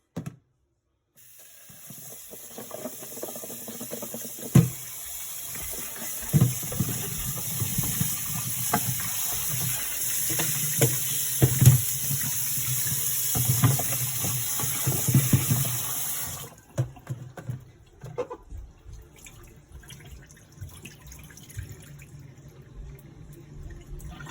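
Running tap water pours over cut pumpkin cubes being washed in a sink, a steady close splashing stream with occasional clunks, which stops abruptly and leaves faint drips and handling sounds.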